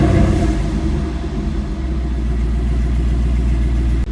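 A car engine running after a throttle body and MAF sensor cleaning, with a loud low steady rumble close by that stays fairly even through the short stretch and then cuts off sharply at the end.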